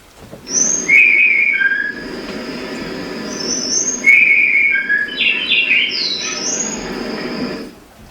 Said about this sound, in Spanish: esta grabación fue hecha en un bosque de Chiapas, México. Es muy poco probable que este pajarito, un mosquitero de pecho blanco